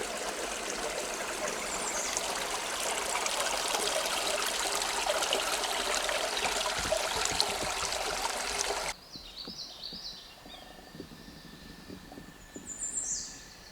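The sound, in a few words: Manistee River flowing along the trail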